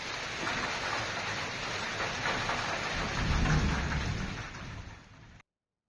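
A hailstorm with rain and thunder in Unnao, Uttar Pradesh: a dense, steady roar of falling precipitation, swelling louder near the middle before easing off and cutting out abruptly, with no voices.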